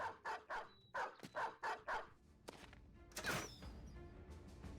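Dogs barking in the Battle Brothers video game during a fight, a rapid run of about seven loud barks followed by a few scattered yelps and a whimper over the game's ambience.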